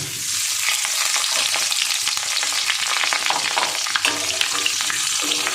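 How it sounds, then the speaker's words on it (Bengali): Pre-fried potato and cauliflower added to cumin and bay leaf sizzling in hot oil in a pan: a loud, continuous crackling sizzle with scraping stirs, close by and without talk. "এবার আমি আলু আর ফুলকপি যে ভেজে রেখেছিলাম এটা এর মধ্যে দিয়ে দেবো।"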